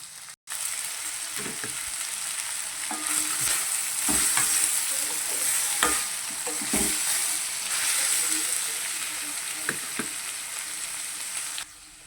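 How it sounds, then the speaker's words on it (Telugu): Chopped onions with salt frying in oil in a pan for a green peas curry, giving a steady close sizzle throughout with intermittent stirring scrapes and a few soft knocks. "ఉల్లిపాయ దోరగా వేగిపోయిందండి"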